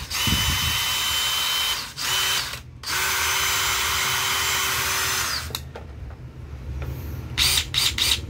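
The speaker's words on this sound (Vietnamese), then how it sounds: "Mã khoan là DCD709, mã vít là DCF850." A DeWalt DCD709 cordless drill with a metal chuck runs loudly and steadily, with short pauses and restarts between bursts and a few quick blips near the end, with no talking.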